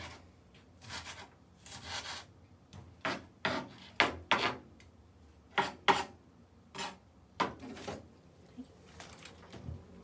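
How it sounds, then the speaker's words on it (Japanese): A knife chops takoyaki ingredients into small pieces on a board, with irregular crisp cuts and taps spread across the clip, close but fairly quiet. "適当に、小さめに切っていきます。"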